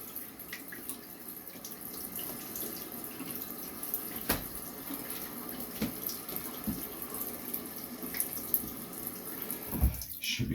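A bathroom tap runs continuously into a sink during shaving, a steady mid-level hiss of flowing water with a few small clicks and knocks, ending in a louder splash.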